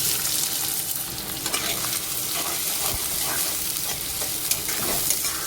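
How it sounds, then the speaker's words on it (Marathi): Finely chopped onion frying in hot oil with cumin seeds for a spicy Maharashtrian stuffed-brinjal dish, a steady loud sizzle with scraping stirs throughout, no voices. "आता मी आता ॲड करणार आहे बारीक चिरून घेतलेला कांदा"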